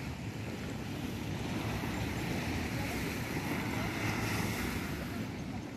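Waves breaking on Segara Beach in Kuta, Bali, under an overcast sky, a continuous steady wash of surf mixed with wind buffeting the microphone.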